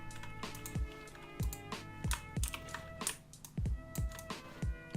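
Keys on a computer keyboard are tapped in an uneven series of crisp, close clicks and clacks, a few quick strokes then pauses, while text is entered in Photoshop.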